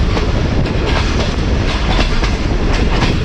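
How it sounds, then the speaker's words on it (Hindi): Mianwali Express passenger train running at about 40 km/h between Lahore and Mianwali, with loud, close, continuous rumble and rhythmic clickety-clack of wheels over rail joints. "इसलिए ट्रेन ज़्यादा स्लो की जाती है यहाँ पर।"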